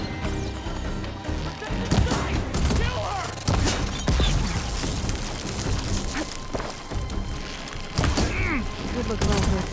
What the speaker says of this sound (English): I don't know where the shots are coming from